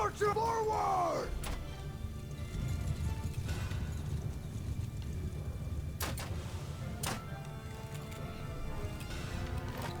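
Horse hooves gallop across a battlefield in Mount & Blade II: Bannerlord, a steady clatter carried under a dense wash of battle noise, with a few sharp impacts cutting through.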